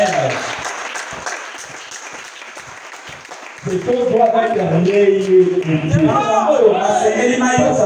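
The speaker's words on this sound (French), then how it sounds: "Acclamons le Seigneur" A church congregation applauds the Lord in a steady wash of clapping that swells louder partway through, while voices and singing rise over the clapping.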